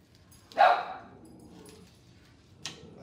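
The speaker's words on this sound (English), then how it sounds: "That's my dog, no patience." A dog gives one sharp, loud bark followed by a short pause and a second, quieter yip, sounding impatient in a home kitchen.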